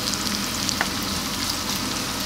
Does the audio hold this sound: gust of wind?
no